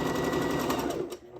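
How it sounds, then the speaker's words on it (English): Sewing machine top stitching through a fabric craft crown, a steady close whirring run of fast needle strokes that slows and stops near the end. "stop the machine, raise the foot of the sewing machine, and then twist"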